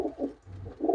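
Pigeons cooing nearby, a few soft, low throaty coos in quick succession, faint and with no voices over them.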